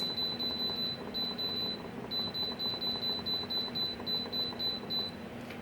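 An Instant Pot's control panel beeps in a quick series of short, bright electronic tones as its buttons are pressed, repeating in clusters over a steady low kitchen hum.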